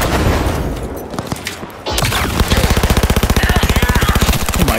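Gunfire in the video game Cyberpunk 2077: a few scattered shots, then a long, fast, evenly spaced automatic burst, loud and close, with no talking.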